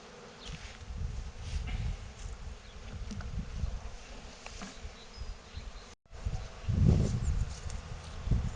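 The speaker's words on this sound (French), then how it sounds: "Les abeilles dedans battent le rappel." Honeybees buzz around the entrance of a Dadant hive as rapeseed comes into bloom, a dense continuous hum close by with a momentary break before the swarm sound swells again.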